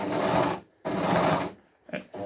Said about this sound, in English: you've got your foot control where you can start sewing